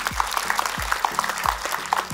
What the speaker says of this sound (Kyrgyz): Бул ассистент болуп иштеген Нуриза кызыбызга кол чабуулар.